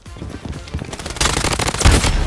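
An MP5 submachine gun fires in the shooter video game Blood Strike: rapid full-auto bursts crackle up close, growing louder and denser through the second half with heavy thumping impacts.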